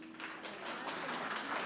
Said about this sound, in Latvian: Lūdzu, aplausi.